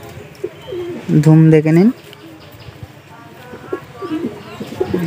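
A pigeon at a pigeon sale gives one loud, close, throaty coo lasting under a second, while someone talks before and after it.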